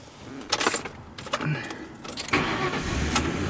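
A Lincoln Town Car's engine cranks and catches after a few short bursts, settling into a rough idle, with keys jangling near the ignition at the start.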